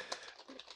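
Typing on a computer keyboard in MS Word makes a short, faint run of light, irregular key clicks.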